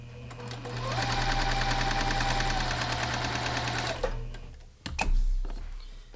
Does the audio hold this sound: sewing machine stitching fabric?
yes